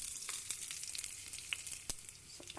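Green chillies go into hot oil already crackling with cumin and tempering spices for majjiga charu, giving a faint, continuous hissing sizzle dotted with small sharp pops.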